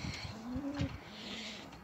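Pigeons coo softly in their loft, with a low rolling coo rising in the middle over quiet background rustle.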